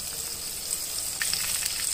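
Shrimp deep-frying in hot oil in a nonstick pan, a steady close sizzle and crackle with brief bursts of popping as the pieces settle in, no voices.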